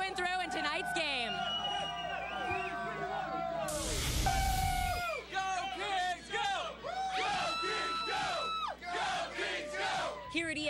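Excited Los Angeles Kings hockey fans cheer at ESPN Zone, a packed crowd yelling and whooping in loud overlapping bursts, with one brief roaring surge in the middle.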